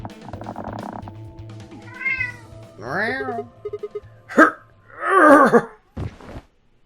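A cat meows and yowls several times in drawn-out, complaining cries, close by, with brief pauses between calls.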